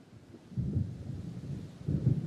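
Thunder of an approaching storm in the video game Alan Wake, deep low rumbles rolling in, one swelling after a quiet start and another building toward the end, with no voices.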